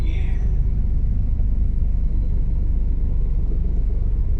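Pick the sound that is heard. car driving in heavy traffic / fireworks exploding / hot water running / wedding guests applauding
car driving in heavy traffic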